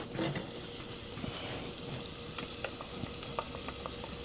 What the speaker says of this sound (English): I'm gonna get the onion on in there.